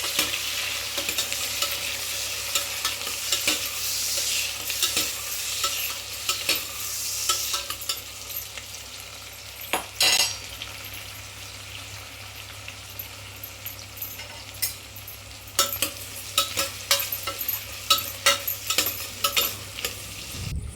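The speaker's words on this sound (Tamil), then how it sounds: "பெரிய வெங்காயம் கொஞ்சம் நல்லா பொடி பொடியாக நறுக்கி வச்சுருந்தேன் அதை கொஞ்சம் சேர்த்துட்டு நல்லா எண்ணெயிலே நல்லா வதக்கி" Finely chopped large onions sauté in oil with a steady sizzle and frequent stirring scrapes, close and continuous throughout, no voices.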